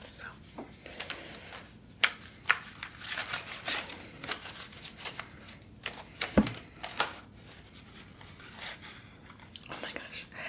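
New tarot cards are hand shuffled in a quiet ASMR setting, with soft irregular riffling, tapping and snapping clicks scattered close to the microphone under occasional quiet speech.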